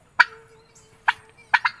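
A turkey gobbles in sharp bursts, one call, a pause, then a quicker double burst, close and clear against a quiet background.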